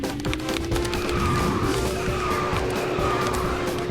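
Karts race and skid through the KartRider track Village Highway, with the new Plasma PXT-R kart on a loud, steady engine drone and tire screeches, alone with no talk.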